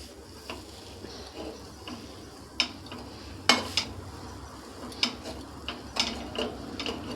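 Knife cuts on a board while egg mughlai is being made, a few sharp separate knocks over a quiet kitchen background with faint low sizzle.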